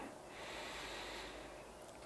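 Deep meditative breath, one long slow airy inhale-exhale heard close and quiet, with no talking.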